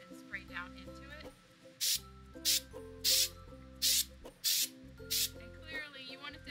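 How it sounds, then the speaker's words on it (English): A series of short, sharp hissing bursts from a spray can flocking a wreath, about six in a row with brief pauses, over steady background music. "hold the wreath up and spray down into it"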